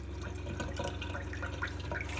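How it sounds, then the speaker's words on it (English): Hot water runs through the plumbing lines of a 1969 Fireball RV, a steady close hiss of flowing water with faint dripping, heard alone. "go ahead and turn on your hot water. Get the air out of that system."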